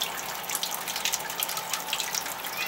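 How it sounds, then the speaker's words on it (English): Water trickles and drains out of a net holding live blackworms, a soft, steady splashing hiss close by and fairly faint, with no talking. "We're going to let as much of that water run out."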